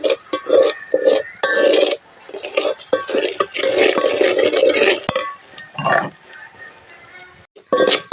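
Grated coconut stirred and frying in oil in a pot until reddish for a mutton curry, with repeated clinks and scrapes of a spoon against the metal pan in bursts, close and fairly loud, with no talk.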